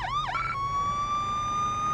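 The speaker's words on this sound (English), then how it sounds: "In editing, I'm gonna have to turn the siren way down because it's ridiculous." A police car siren from the video game Police Simulator wails loudly in a rising and falling sweep, then settles into a steady high tone over a low engine rumble, with no talk.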